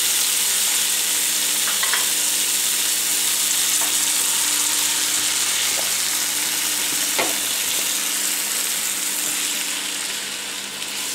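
Tomato frying in an oiled pan with garlic, a steady close sizzle and crackle throughout, with occasional light clinks of stirring.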